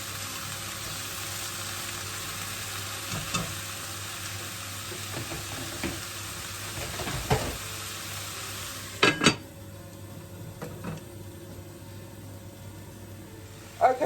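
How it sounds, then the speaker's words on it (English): Spinach cooks down in a pan with a steady, soft sizzle and hiss, interrupted by occasional stirring knocks and a couple of sharp clanks of a lid or utensil near the end. "I am going to go in with the spinach, and then I'm going to cover it and let the spinach cook down a bit"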